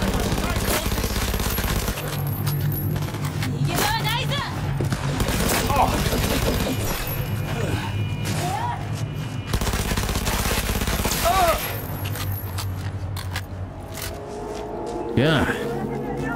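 Gunfire and a grenade blast in the Cyberpunk 2077 video game: loud, continuous bursts of automatic weapon fire with engine-like mechanical noise and chaotic effects, a voice talking over the din.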